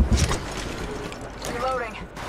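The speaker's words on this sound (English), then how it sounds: "Reloading." Weapon reload in the mobile battle royale game Apex Legends Mobile, a short run of clicking, ratcheting mechanical clacks amid ambient game noise, with a voice speaking over it.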